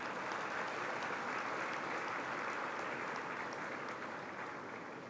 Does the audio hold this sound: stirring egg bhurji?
no